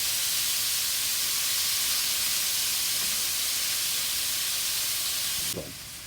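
Lamb browning in a pan during cooking at sea on a yacht, giving a steady, broad sizzling hiss that holds evenly throughout before a brief soft knock near the end.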